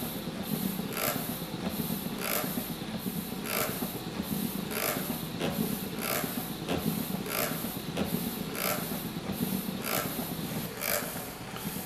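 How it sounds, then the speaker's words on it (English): A busker organ's relief valve opening and closing to dump excess air from the reservoir, giving a close, regular whooshing puff about every second over a steady airy mechanical hiss, with no talk. "the relief valve on the opposite side is releasing the excess air so the reservoir does not exceed its maximum extension"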